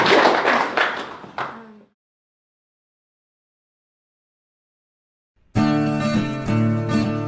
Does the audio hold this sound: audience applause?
yes